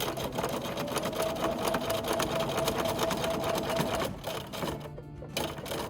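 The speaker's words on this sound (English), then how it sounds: "I've started with my needle in one of the seams and I just sew all the way around." Sewing machine straight stitching around a Dresden Plate quilt block, a steady rapid mechanical whir for about four seconds, then a brief stop and a short restart, loud and close with no talking.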